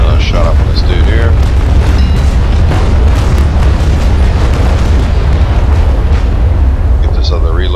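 In the Naval Action line battle, ship cannons fire in heavy, continuous booming broadsides with dense rumbling explosions, loud throughout, while a voice talks over them.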